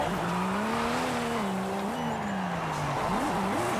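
Car engine roaring loud and steady while drifting in the video game Forza Horizon 5, its pitch wavering up and down with tire squeal throughout, close and continuous with no talk.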